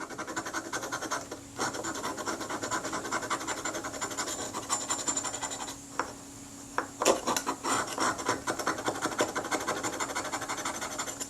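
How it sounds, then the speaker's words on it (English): Corrosion is scraped off the body of a Kodak Retina camera with a tool, close scratchy rasping strokes in irregular bursts with a couple of short pauses, no speech. "Let's try getting some of this corrosion off here."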